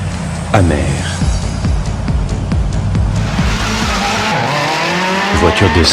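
Sports cars race by with engines roaring and tires squealing as they skid, the loud, dense mix running continuously throughout.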